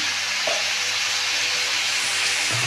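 Home-grown Malabar spinach goes into a hot pan, giving a dense, steady hiss and sizzle with a few soft knocks of the utensil, close and even, with no voices.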